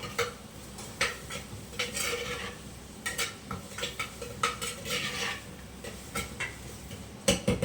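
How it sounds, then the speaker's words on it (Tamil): Garlic goes into a fish curry in a clay pot and is stirred, producing repeated close scrapes and clinks of a spoon against the pot over a faint low sizzle, without speech. "இப்போ வந்து பூண்டு போட்டுக்கிறேன்"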